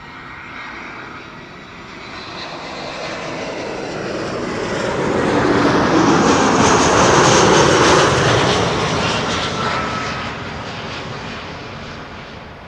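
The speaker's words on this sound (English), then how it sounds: "This is EasyJet flight 23301 arriving from Edinburgh." An EasyJet passenger jet arriving from Edinburgh comes in to land at Schiphol, its engine roar swelling steadily to a loud, broad peak midway, then slowly fading as it passes, with no talk.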